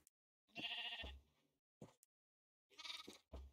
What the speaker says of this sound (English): Where is the sheep?